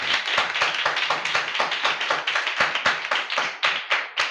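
Congregation at a Sunday church service clapping in a steady, rhythmic beat, loud and close, with sharp repeated claps running throughout and no talking over them.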